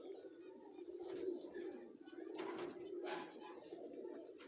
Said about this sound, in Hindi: नाराज़ हो रहा है थोड़ा कबूतर।